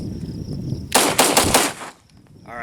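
A Beretta 92A1 pistol, fouled with dirt and grass during a reliability test, fires a quick string of about four or five sharp, loud outdoor shots in close succession, followed by quiet.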